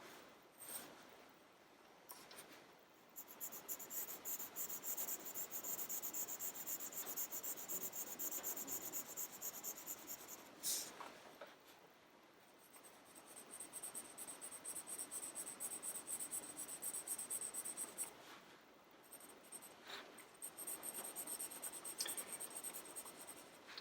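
Charcoal on paper being shaded into a gradation while drawing folded fabric: close, steady scratchy rubbing strokes that continue with only brief pauses, with no talking.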